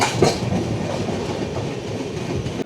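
The Kaziranga Express rumbles steadily along the rails on its Kolkata route, a close, continuous roar of wheels and carriages with a faint clickety-clack rhythm.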